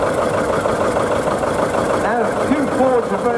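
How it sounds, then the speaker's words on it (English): A small Case four-wheel-drive horticultural tractor runs at a ploughing match on Southrop Farm, Lechlade, its diesel engine chugging at a steady idle, loud and near, while people talk over it. "This is the case. Basically a little four-wheel drive tractor."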